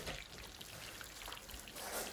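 Chicken pieces for homemade KFC-style fried chicken sizzle in hot oil, a close, continuous rain-like crackle with scattered spits that swell slightly toward the end.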